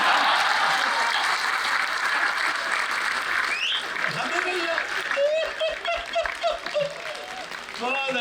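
A Hindi comedy poetry audience breaks into loud, dense applause that gradually thins into scattered claps, with some laughter and voices breaking through as it fades.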